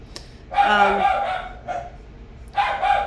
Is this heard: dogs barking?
yes